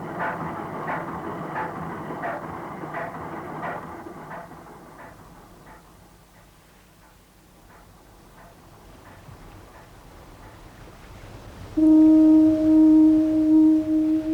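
A deep, steady horn tone sounds loudly near the end, after a stretch of rhythmic clattering and quieter rumble.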